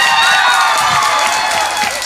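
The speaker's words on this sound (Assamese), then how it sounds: "সেইটো কাৰণে আকৌ হাত চাপৰি ন।" Applause from the crowd at an Assamese comedy stage show, a dense steady wash of hand clapping with scattered cheers that keeps going throughout and tapers off only slightly at the end.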